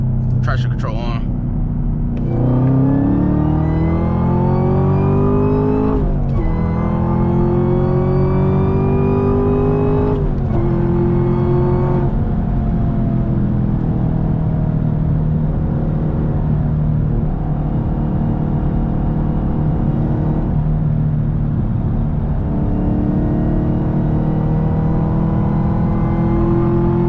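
A Camaro ZL1 with a manual gearbox revs hard through several gears, pitch climbing and dropping with each shift, a loud, close, sustained roar.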